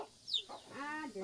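Chickens cluck softly in a farm pen, giving a few short, faint calls in quick succession, close by but quiet.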